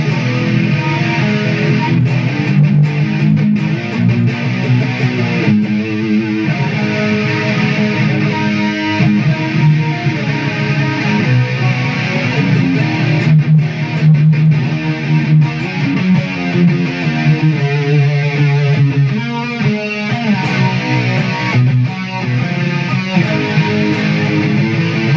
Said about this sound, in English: patch number 3, which is the metal sound. The current number function for this is another chorus as well because I use chorus with